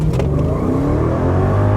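A Mercedes R63 AMG with traction control off accelerates hard from a standstill in a 0-60 mph run, its engine roaring loud and close with a steady, rising drone.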